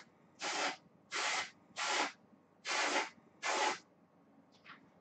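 Five short airbrush bursts spray paint onto a fishing lure, each a hissing puff of about half a second with brief pauses between, close and fairly loud, followed by a faint softer puff at the end.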